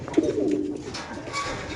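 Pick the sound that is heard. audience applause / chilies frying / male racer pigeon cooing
male racer pigeon cooing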